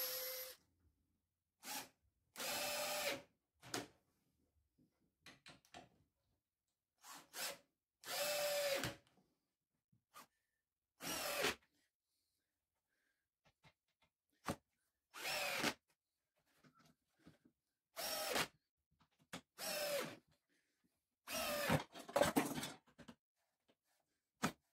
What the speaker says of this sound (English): so I could actually drive the screws in and fix the